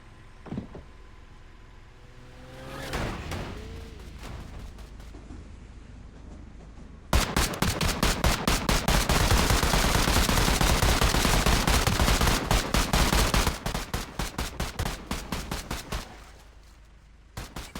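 Heavy gunfire in a video game shootout: sustained rapid bursts of automatic fire rattle loudly for several seconds, with scattered shots before and after, and no talk over it.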